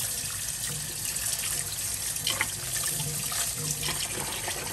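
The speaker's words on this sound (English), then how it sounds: "Just rinse it with water." Tap water runs steadily into a sink as raw beef liver is rinsed under it, a close, continuous splashing rush with small irregular spatters and no talking.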